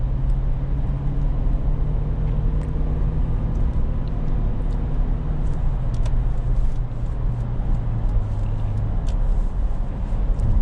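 A 2008 Lexus LX 570 cruises on a highway, its steady engine drone and road roar filling the cabin continuously at close range with no talk.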